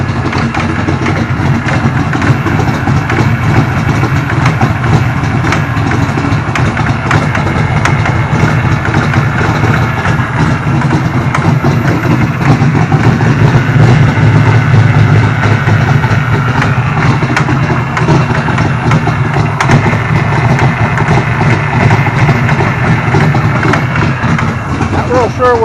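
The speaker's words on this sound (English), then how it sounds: "sure what that knocking noise is" A 1995 Ford Mustang Cobra idles steadily and loudly up close, its even rumble carrying a faint knocking throughout, with an H-pipe at the cat-back not fully seated; a voice talks over it.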